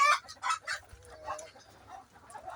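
Chickens of mixed breeds on a Moroccan poultry farm, several close clucks and short squawks overlapping in quick irregular bursts over a faint low background.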